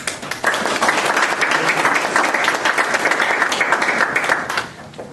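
Audience at an Alva National Guard Armory ceremony breaks into sustained applause, a dense wash of many hands clapping that holds steady for several seconds before tapering off near the end.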